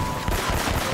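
Gunfire in the video game Uncharted, a dense burst of rapid shots filling the whole moment, loud and close.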